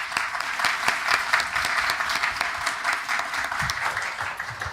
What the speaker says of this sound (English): I would like to give you a warm applause